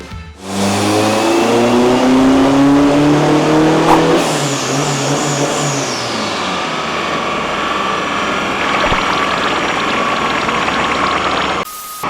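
Tuned 2.5-litre car engine on a dyno, revving hard with rising and falling harmonic engine tones that drop to a rough idle with buzzy high rattle, loud and steady throughout with no talk.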